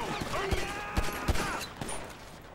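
Gunfire in the video game GTA V: several sharp shots crack in quick, irregular succession at moderate distance, over a dense background of game music and ambient noise.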